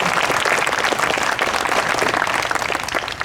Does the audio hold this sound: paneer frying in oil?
no